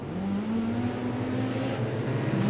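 Four-cylinder National 4's race cars on the Kingaroy Speedway track accelerate together at the race start, with a loud, continuous droning roar of engines whose pitch climbs steadily.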